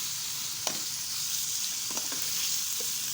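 Garlic sizzles steadily in a pan while a liver dish is being cooked, a moderate even frying hiss with a few faint clicks from the pan and no talking.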